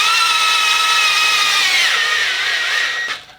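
Loud, close power tool whirring steadily while removing bolts from a Ford Escape 2.0L EcoBoost transmission, its pitch sagging slightly near the end before it winds down.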